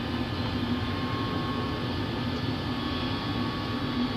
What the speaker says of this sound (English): Okay, reverse. Reverse thrust.